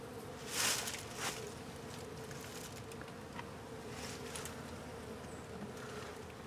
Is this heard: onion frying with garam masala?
no